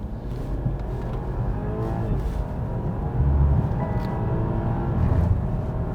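A 2021 BMW 5 Series pulls away from a standstill, its muffled, sporty engine note rising steadily from inside the cabin, with a low rumble that swells in two surges.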